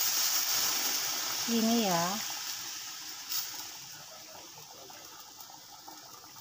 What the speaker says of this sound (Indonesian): Dan kita kasih air ya teman-teman, secukupnya aja. Kita masukkan air ya teman-teman.